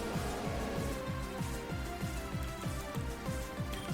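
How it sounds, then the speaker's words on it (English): Hail falls in a Pokémon video game as a quiet, steady patter of rapid ticking drops over a rhythmic, looping low game music beat, with no talk. "Oh, great, and it's hailing."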